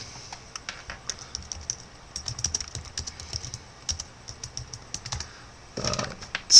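Steady clicking of keys on a computer keyboard, irregular bursts of close, light taps with a slightly louder clatter near the end, no voices.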